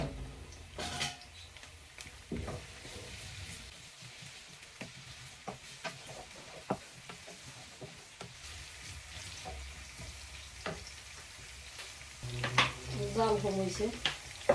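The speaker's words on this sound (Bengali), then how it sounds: "তেল দিলাইলাম আমি রসুন এক টুকরা দিছি আর আধা খান পেঁয়াজ" Garlic and half an onion frying in oil for a Sylheti shutki chutney, a close sizzling hiss with repeated scraping and stirring strokes of a utensil in the pan, while a person talks briefly.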